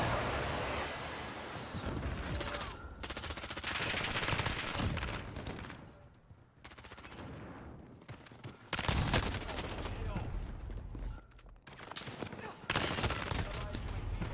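Sustained, dense gunfire from a Modern Warfare match, with loud rapid bursts that overlap and continue almost without a break. They pause only briefly and then resume at full loudness.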